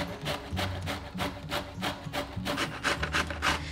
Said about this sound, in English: We're going to start by grating two small or one large head of cauliflower. You can do this by hand like I'm doing here